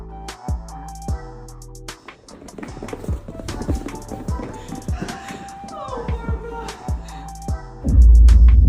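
Horse hooves clip-clop in a steady, fairly loud rhythm of sharp hits over background music, ending in a louder, rougher burst of noise.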